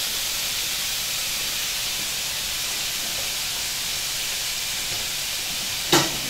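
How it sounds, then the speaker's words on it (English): Lamb steaks pan-fry with a loud, even hiss of sizzling fat that holds steady throughout, broken by one brief sharp knock near the end, with no one speaking. "Our lamb's cooking excellently."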